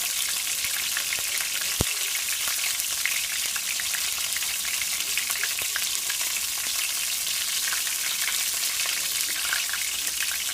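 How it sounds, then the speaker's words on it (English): Battered oyster mushrooms shallow frying in oil give a steady, dense crackle and sizzle throughout, close and even, with faint pops scattered through and no talking. "It may take a little longer because it's a shallow fry, but just stick with the shallow fry."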